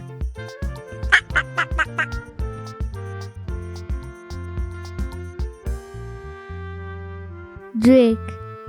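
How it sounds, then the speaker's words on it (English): A duck gives a short burst of quick quacks early on and one louder quack near the end, with light background music playing throughout. "Duck."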